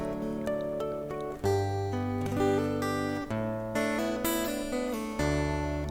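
Fingerstyle acoustic guitar playing a steady melodic passage with plucked bass notes and ringing chords, clear and close, continuous with no voice.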